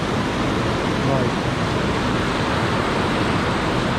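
A waterfall at 6 Mile Lake, swollen after recent rain, roars as a continuous, dense broadband rush of falling water, loud and steady without breaks, with a voice faintly buried in the noise.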